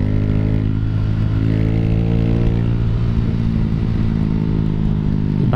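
Raider J115Fi motorcycle engine fitted with a 16T sprocket revs loudly and steadily up close, a strong buzzing drone with rising and falling pitch and no one talking.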